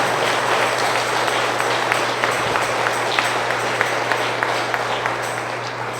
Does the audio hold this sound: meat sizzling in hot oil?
no